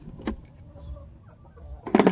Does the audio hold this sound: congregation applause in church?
no